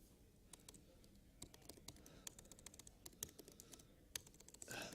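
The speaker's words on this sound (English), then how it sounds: "Typing is hard." Rapid, uneven clicking of keys on a computer keyboard, quiet and close, with a brief rustle at the end.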